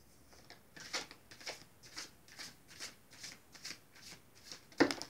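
A deck of oracle cards being shuffled by hand, close and soft, in a rhythmic series of riffling swishes about every half second, ending with a sharper slap as cards drop.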